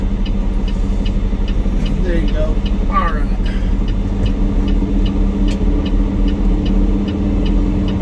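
A car rolls through an intersection while the vehicle's own engine hums steadily close by, a low continuous rumble with someone talking over it.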